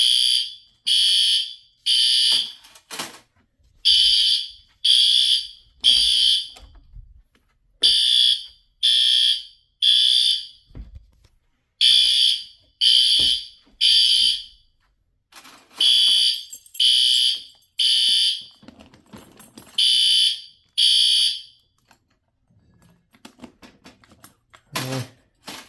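A P2RL fire alarm horn strobe sounds during a system test, blaring in short bursts grouped in threes, with a pause between groups and quiet gaps between the sequences.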